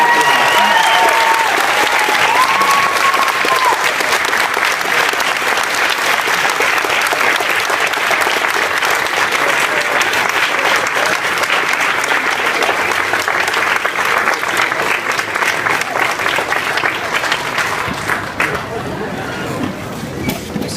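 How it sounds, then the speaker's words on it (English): A large graduation crowd gives a long, loud round of applause for the parents, dense clapping sustained for about twenty seconds, with faint cheers and murmuring beneath it before it thins at the end. "the class deserves to give a huge round of applause to the parents for their gift of unconditional love and support"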